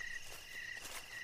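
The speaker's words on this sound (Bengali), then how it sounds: "ঝিঝির ডাক" Crickets chirp continuously in a forest at dusk, a steady high trilling at low volume with faint rustling beneath and no voices.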